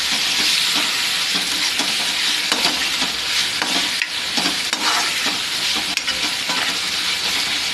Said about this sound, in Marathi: आता आपण मस्त असं फ्राय करून घेऊया व्यवस्थित